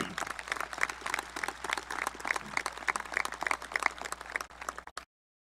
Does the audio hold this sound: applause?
yes